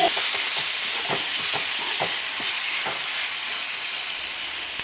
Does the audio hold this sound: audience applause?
no